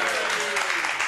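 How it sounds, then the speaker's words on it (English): Applause from a studio audience on a British chat show fills the moment as a dense, steady roar of clapping, loud and even throughout. "I've got to get a round of applause for this."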